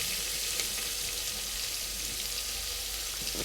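Onions fry in a cooker for mutton biryani, giving off a steady, dense sizzle that holds at one level throughout, with no voices.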